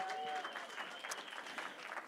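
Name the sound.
applause for an auction winner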